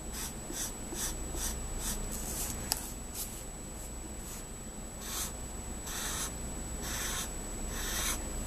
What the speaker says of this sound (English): as long as you keep the marker on the paper,